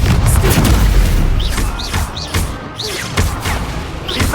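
Incendio fire spell blasts during Hogwarts Legacy combat, a loud burst of repeated booms and crackling impacts with chirping magical effects between them, close and dense.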